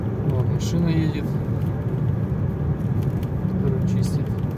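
A snow-clearing vehicle drives along a cleared, slippery road between large snowdrifts after a snowstorm, giving a steady, loud engine and tyre rumble throughout while a voice talks over it.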